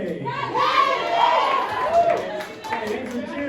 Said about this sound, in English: Hey, thanks for cheering.